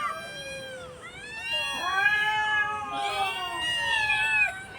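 Many cats, about thirteen strays, meow loudly and insistently at feeding time: overlapping, drawn-out yowls rise and fall without pause throughout, close by, with no talking.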